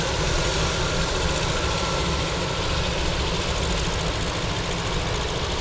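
A brand-new Boeing 737 MAX 8 for China Southern, on a delivery flight to Narita from Anchorage airport, makes a loud, steady, broadband jet engine roar that is close and unbroken, with no voices.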